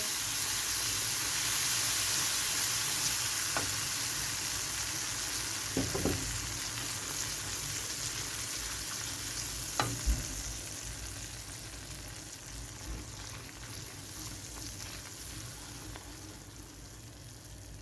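A soft, steady sizzle and hiss from a hot pan of roux, with occasional clinks of a utensil as the mixture is stirred.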